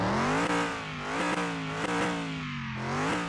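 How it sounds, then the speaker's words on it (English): A 1968 Dodge Charger R/T V8 revs repeatedly with a deep, rumbling tone, rising and falling in several short surges close to the microphone, with no voices. "You know it's a mean-sounding engine anyway, and it's just got that nice rumble on the tick over."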